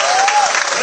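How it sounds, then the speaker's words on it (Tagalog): Audience at a seminar in the Philippines breaks into brief, dense clapping, a short burst of steady applause with a faint voice underneath. "once again, palakpakan natin"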